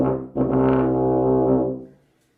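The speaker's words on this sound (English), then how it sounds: "You buzz and you blow into the mouthpiece to produce a sound like this." One low, sustained note on a tuba, sounded by buzzing into the mouthpiece, swells after a brief false start and holds about a second and a half before fading, close and alone.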